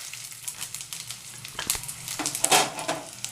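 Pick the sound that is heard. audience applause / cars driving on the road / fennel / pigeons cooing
fennel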